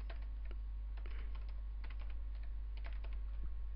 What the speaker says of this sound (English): So I'm just gonna type some random stuff here.